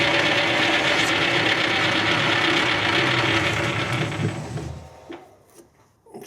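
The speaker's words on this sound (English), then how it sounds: "That's the reamer going through now." A half-inch reamer cuts through a hole in metal, giving a steady close grinding, ratcheting chatter that fades away over the last seconds, with no voices.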